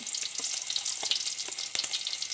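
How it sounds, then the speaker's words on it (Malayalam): Chopped ginger frying in two tablespoons of hot coconut oil in a pan on the stove, a steady bright sizzle throughout with a few soft scrapes and pops, close and fairly loud, no voices. "ഒരു പാൻ അടുപ്പിൽ വെച്ച് അതിൽ രണ്ട് ടേബിൾ സ്പൂൺ വെളിച്ചെണ്ണ ചൂടാക്കാൻ വെച്ചിട്ടുണ്ട് അതിലേക്ക് അരിഞ്ഞു വച്ചിരിക്കുന്ന ഇഞ്ചി"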